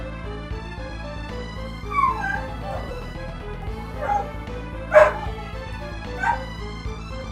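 Dog barking and yelping in the game Golden Sun: The Lost Age, a few short bursts spaced across a continuous music backdrop with a faint voice.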